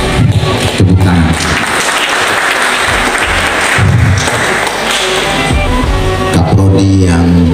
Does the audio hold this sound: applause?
yes